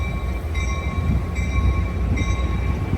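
Amtrak San Joaquin passenger train #718, led by an F59PHI locomotive, departing Oakland Jack London Square station, a steady close rumble with a sustained tonal engine whine throughout.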